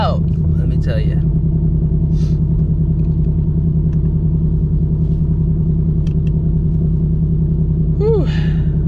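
A loud truck engine rumbles steadily close by as it pulls up, a constant low drone with a couple of brief rising revs near the start and end.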